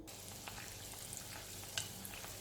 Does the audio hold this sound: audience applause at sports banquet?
no